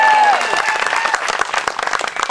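Audience clapping for a young boy brought up onstage at a live science show, a dense burst of many hands applauding loudly and steadily throughout, with a faint voice at the start.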